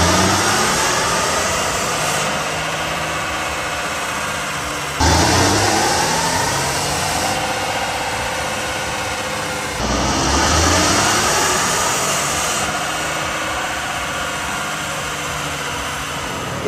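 A 2023 Ford F-150 Tremor with the 3.5-liter twin-turbo EcoBoost V6 runs steadily and loud, close by, on a dyno, droning on with surges at about 5 and 10 seconds and no talk.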